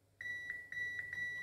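Sharp electronic beeps from a multimeter's continuity tester as it is touched to the ground pins of a Cyrix 486DLC processor. Four short, clean tones come close together on a quiet bench, with no talking.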